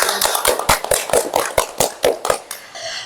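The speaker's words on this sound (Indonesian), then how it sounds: "Beri tepuk tangan yang meriah dulu untuk pemain kita pada siang hari ini" Hearty applause for the players at the start of a game simulation session, a burst of sharp, irregular hand claps from a small group, close and fairly loud, lasting a few seconds with no talk.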